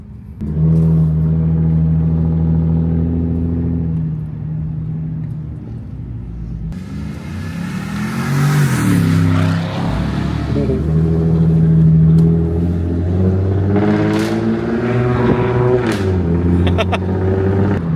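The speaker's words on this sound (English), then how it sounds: "It sounds so good with the V8 twin turbo straight pipe." A Porsche 955 Cayenne Turbo twin-turbo V8 with muffler delete and X-pipe rumbles loudly up close, holding a deep idle before being revved repeatedly, the pitch climbing and falling in several throaty swells.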